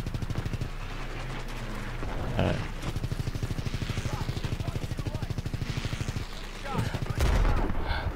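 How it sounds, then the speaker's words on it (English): Sustained rapid gunfire from Call of Duty WW2 during the Battle of the Bulge campaign mission, a dense, continuous automatic-weapon rattle with heavier bursts and booms, close and loud throughout. "I'm shooting everybody in the process over here"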